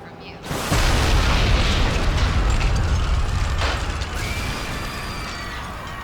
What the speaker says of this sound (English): right before the explosion